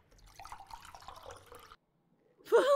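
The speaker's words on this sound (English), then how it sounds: "What's with the water pouring sound?" Water pouring in the video game Not For Broadcast: a faint, soft trickle and dribble lasting under two seconds, then a pause before a louder, brighter burst near the end.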